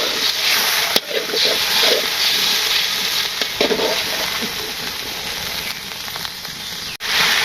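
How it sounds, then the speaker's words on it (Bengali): Spices fry with browned onions in a pan, giving a loud, continuous close sizzle and hiss with occasional stirring scrapes and a couple of sharp knocks. "মশলা দিয়ে দিই, মশলা কষিয়ে নিই।"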